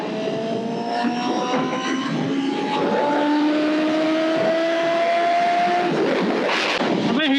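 Motorbike engine on a Himachal highway holds steady and loud with rising, revving engine tones throughout, mixed with wind and other traffic, a brief burst of noise near the end.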